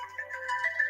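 Phone ringtone for an incoming call, a bright warbling electronic melody sounding loud and close for under a second over a faint low hum.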